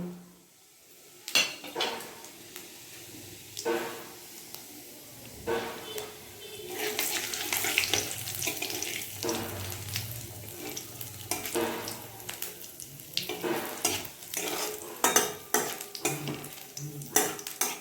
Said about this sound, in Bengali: এখন 2টো শুকনো লঙ্কা আর জিরে ফোড়ন দিয়ে দেব।